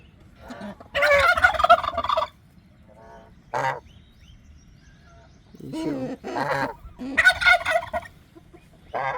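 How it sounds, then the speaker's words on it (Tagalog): Geese calling on a farm, loud repeated honking bursts in several separate bouts with short pauses, close by, with brief talk in between. "Yan yung gansa natin."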